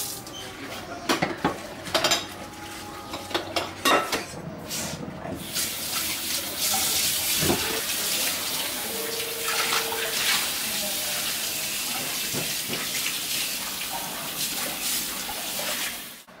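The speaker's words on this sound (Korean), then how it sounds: "세계 최초 설거지 하는 강아지." Dishes are washed at a kitchen sink under a running tap, with steady water flow, clinking plates and rattling cutlery, and scattered sharp knocks early on that settle into continuous splashing.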